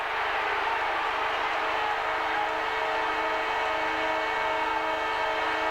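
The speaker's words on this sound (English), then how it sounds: "There's the siren" A long, sustained siren wails at a 1987 Australian football preliminary final, a steady, loud tone with layered harmonics holding for several seconds over the constant roar of a big stadium crowd.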